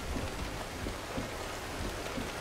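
Rain in the trucking game American Truck Simulator, a steady wash of falling rain with soft patters on surfaces and a faint low rumble, continuous and alone without talk.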